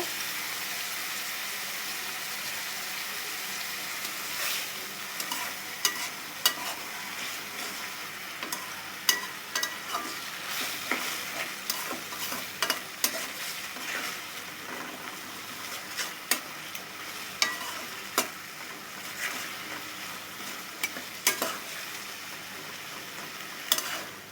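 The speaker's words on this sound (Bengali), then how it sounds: "আর একটু সামান্য পরিমাণে জল দিয়ে দেবো" Egg curry cooked without ginger or garlic sizzles steadily in a pan after a little water is added, while a spoon stirs with frequent scraping clicks and taps over the constant frying hiss.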